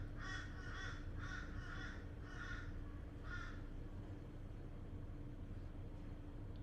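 Crows cawing outdoors, a run of about six harsh caws in quick uneven succession at moderate distance, then quiet, over a low steady engine-like hum.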